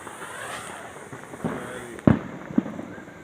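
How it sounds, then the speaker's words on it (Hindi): Diwali firecrackers burst outdoors in a few sharp cracks, with one loud bang near the middle and a smaller pop after it, over a steady background hiss and faint distant crackling. "यहाँ भी सब पटाखा वटाखा फोड़ लेता है"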